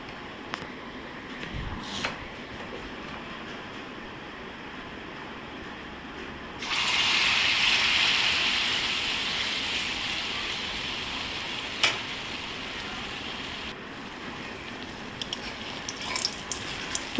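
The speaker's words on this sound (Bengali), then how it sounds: "তো এখন ভেজে নিচ্ছি" Rice-flour dough with fennel seeds drops into hot oil and bursts into a bright, steady sizzle that slowly fades over several seconds, with occasional faint clinks.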